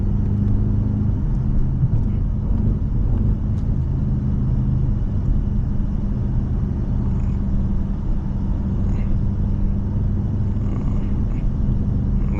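A car's engine rumbles steadily from inside the cabin while it accelerates along a road, a loud, continuous low drone without breaks.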